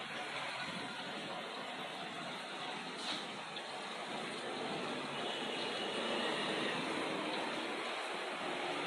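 Water pours steadily into a tea and coffee machine, a continuous broadband splashing wash that stays even and close throughout with no talk over it.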